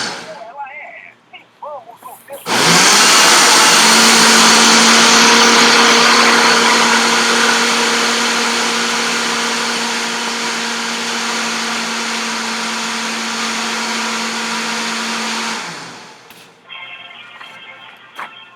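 Electric blender making juice, a loud, steady whirring drone that starts abruptly, runs for about thirteen seconds with slowly sagging pitch, then cuts off, with faint speech before and after.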